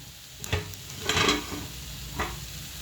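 Potato fry with spinach stirred in a hot pan, a steady sizzle broken by several scraping strokes of the spoon, close and moderately quiet, with no talking.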